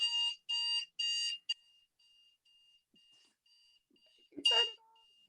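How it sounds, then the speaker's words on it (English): Electronic alarm beeping in three long bursts followed by a short blip, then a faint steady tone that keeps repeating softly, with a brief sharp noise near the end. "Sorry, that's alarms."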